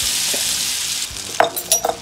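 Coriander powder and garam masala fry in hot oil and butter for butter paneer, a steady loud hiss that ends with a few sharp scraping stirs of a spoon against the pan.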